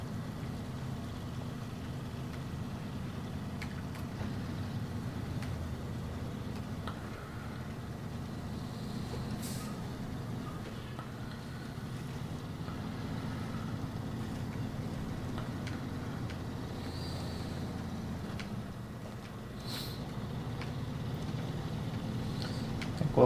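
Truck engine in the video game SnowRunner, a steady low rumble droning continuously as it drives through mud, with no talking.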